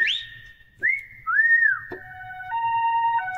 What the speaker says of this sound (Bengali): ambulance শব্দ